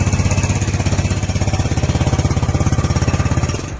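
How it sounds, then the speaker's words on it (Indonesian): A big engine rumbles steadily with a fast, throbbing pulse, loud and close, running continuously without any voices. "suara yang dihasilkan dari mesin tersebut berbeda dengan suara motor kecil atau motor bebek"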